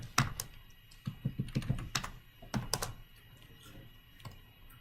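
Fingers tap a computer keyboard in short, uneven clusters of crisp nearby key clicks, tapering off toward the end.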